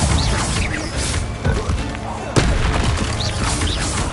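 Incendio fire spell in Hogwarts Legacy, loud bursts and booming impacts amid battle clatter, with a sharp crack partway through and a voice briefly calling out.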